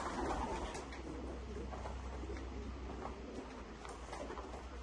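Pigeons coo softly in a low, muffled murmur, sounding somewhat distant under a steady background rumble.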